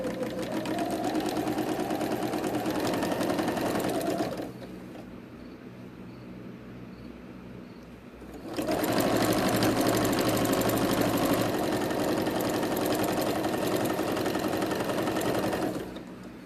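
A sewing machine stitches pink shark-shaped pencil cases in two steady, close runs of rapid mechanical whirring, separated by a quieter pause of several seconds.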